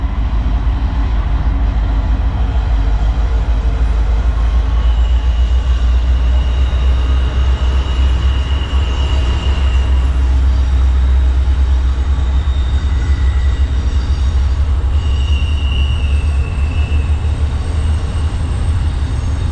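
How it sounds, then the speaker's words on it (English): A slow freight train rolls past a winter riverside campsite in West Virginia, giving a loud, steady rumble and clatter of wagons over rails, with occasional high squeals from the wheels throughout. "Train coming. Freight train. Slow freight train."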